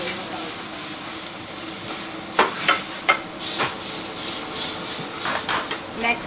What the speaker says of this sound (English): It's important that we saute the onions till they're soft and on a medium temperature